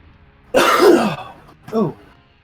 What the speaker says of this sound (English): apologies for the coughing, by the way